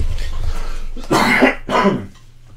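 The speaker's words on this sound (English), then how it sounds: "I'm about to cough as well." Two sharp, close coughs in quick succession, preceded by a low rumble of background noise.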